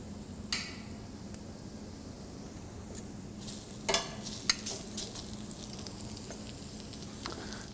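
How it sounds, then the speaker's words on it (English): Seasoned shrimp sizzle quietly on a warm grill, a soft steady crackle with a few sharper pops and light scrapes scattered through, close but low in level, and no voices. "I'll grill them for about 3 minutes on one side, turn them for a mark, and flip them to the back side."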